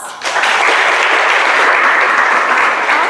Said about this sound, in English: So please give yourselves applause.